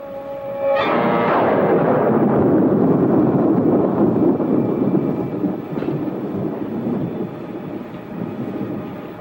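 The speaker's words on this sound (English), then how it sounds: "Well, another stormy weekend." Thunder during a nighttime storm opens with a sharp crack, then rolls into a long, loud, rumbling roar that slowly fades, with no voices.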